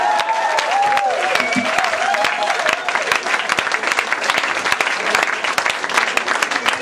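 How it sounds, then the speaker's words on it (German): Audience applause at a live open-air concert at a lake stage, dense sustained clapping with some cheering, loud and continuous, with a whistle-like tone sweeping briefly early on. "So bitte einen herzlichen Applaus"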